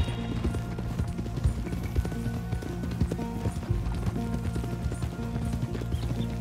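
Horse hooves clop steadily at a walk near the stables in the video game Red Dead Redemption 2, a close, even rhythm of soft thuds under faint ambient noise.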